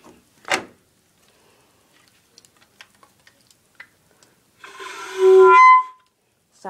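A squeaky door in a bedroom gives one drawn-out, high tonal creak lasting about a second, after an earlier thump and a few faint ticks in an otherwise quiet room.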